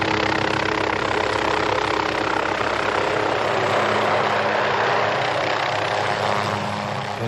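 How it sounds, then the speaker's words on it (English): Loud helicopter engine and rotor noise in a film scene, a dense, continuous roar that stays close and steady for the whole stretch, with no voices over it. "we cut to a helicopter, and the noise of the engine is so loud by comparison"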